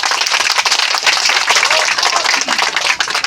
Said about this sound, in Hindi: आप लोग ताली मारेगा